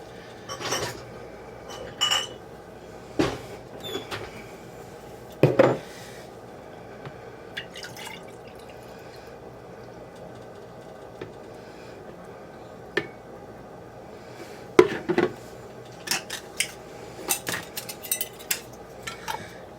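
Metal canning lids and rings are dropped into a home canner while canning SpaghettiO sauce. Sparse, sharp clinks and taps ring out at irregular intervals over a quiet background, with no talking.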